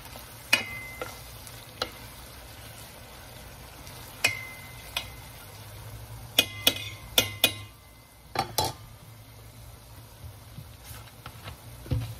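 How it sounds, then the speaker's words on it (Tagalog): Onions frying in a pan for a butter garlic seafood dish, with a soft steady sizzle broken by several sharp clinks and scrapes of a utensil stirring against the pan, close and fairly quiet. "Labas-labasin po lang natin yung aroma ng sibuyas."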